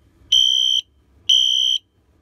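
A Wheelock Exceeder fire alarm sounder set to code 3 gives two loud, steady high-pitched electronic tones, each about half a second long with a short gap between them, close up over a quiet background.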